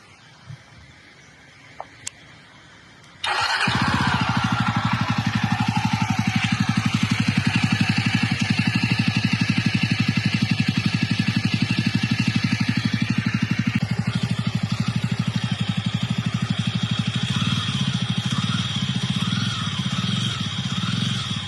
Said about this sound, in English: So let's hear the exhaust sound of this bike.